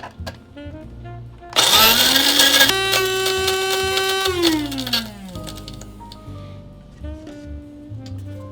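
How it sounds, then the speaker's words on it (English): An electric burr grinder at the SEU Ohio coffee bar grinds beans for a V60 pour-over, a loud whirring motor that starts abruptly, pitch shifting as it runs, then winds down. "when you're done with grinding the beans"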